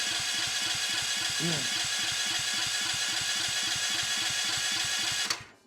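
A new Champion generator with electronic fuel injection cranks over and over without catching, giving a steady, rapid chugging rhythm that is loud and close for about five seconds before cutting off abruptly.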